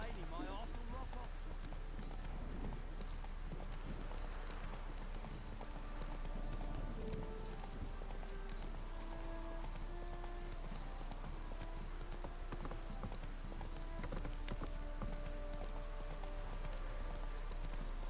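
Steady clip-clop of horse hooves at a brisk pace in a video game, with rain pattering throughout and a low background hum.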